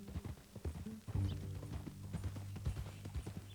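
Horse hooves clip-clop steadily and close in Red Dead Redemption 2, a loud rhythmic gait with occasional snorts, no voices over it.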